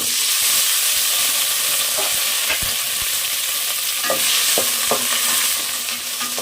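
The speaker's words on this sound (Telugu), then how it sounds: "తర్వాత వచ్చేసి ముందుగా బెండకాయలు వేపాలండి" Okra frying in oil with cumin and mustard seeds, a steady loud sizzle throughout with scattered pops and the scrape of stirring, no voices.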